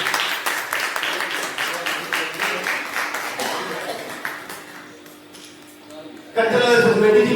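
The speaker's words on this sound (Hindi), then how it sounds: "तालियां बजनी चाहिए।" Audience applause at a Hindi poetry book launch, a crowd clapping steadily in bursts at moderate volume, fading toward the middle, then a louder swell of clapping and voices near the end.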